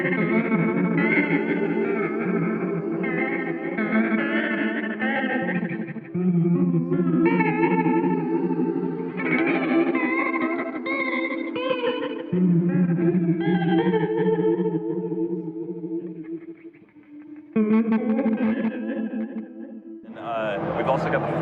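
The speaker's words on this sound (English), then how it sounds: "this chorus delay thing is constantly happening after, with a bit of extra strange feedback on it too" Electric guitar chords and riffs run through an Old Blood Noise Endeavors Visitor chorus delay pedal, shimmering and wobbling with trailing echoes and odd feedback, played alone up close, ending in a brief noisy burst.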